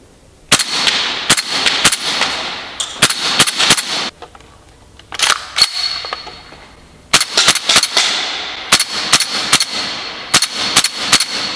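HPA-powered airsoft gun firing in sharp bursts of rapid shots with short pauses between groups, loud and close, plus a brief quiet gap midway.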